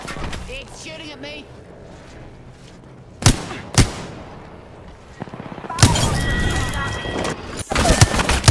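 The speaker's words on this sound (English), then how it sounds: "I'm opening fire." Gunfire in the Apex Legends battle royale game, two sharp loud shots followed by a heavier sustained burst of rapid fire, with speech-like game voice sounds in the quieter stretches.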